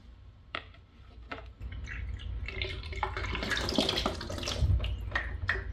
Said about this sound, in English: We'll have to pour more water.